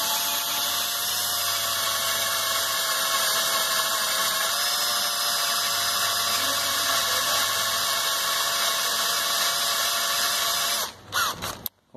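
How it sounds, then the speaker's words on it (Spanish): A power drill with a bit bores into a car's steering coupling, a steady high whine running continuously and close before stopping abruptly near the end. "Ahorita la voy a dar con esta broca un poco"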